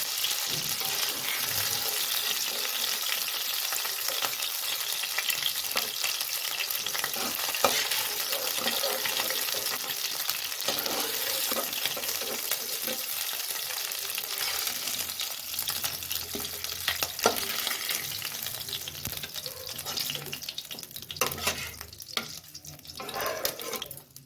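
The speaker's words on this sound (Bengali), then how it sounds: "আমার কাটাগুলো ভাজা হয়ে গেছে হালকা ভাজা করে নিয়েছি" Chital fish bones sizzle and crackle steadily in hot oil in a pan, a dense, continuous frying hiss with occasional stirring scrapes, close and fairly loud throughout.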